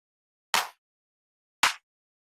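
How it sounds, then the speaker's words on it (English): Two isolated clap sample hits about a second apart, each a short bright burst of noise that cuts off quickly, nothing else around them. "You can literally just take like a clap sound."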